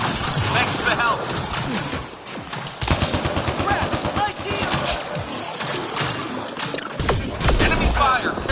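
Rapid bursts of gunfire in the sci-fi shooter game Mass Effect Andromeda, dense and loud with repeated volleys across the whole stretch, while a voice calls out over the shooting.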